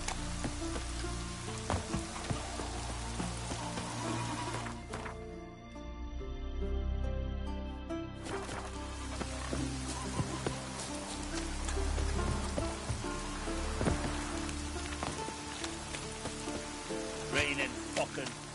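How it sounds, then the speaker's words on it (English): Heavy rain pours steadily in The Witcher 3, a dense broadband hiss with music and game sounds layered over it and occasional speech mixed in, holding loud throughout. "Raining fucking buckets."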